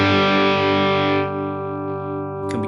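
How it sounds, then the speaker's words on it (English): A sustained, heavily distorted electric guitar chord through the dirty channel of a Bogner Shiva amp model in Line 6 Helix rings out and slowly decays, followed by a brief scratchy string noise at the end. "this is very much, I think, the dirty channel of the Bogner Shiva"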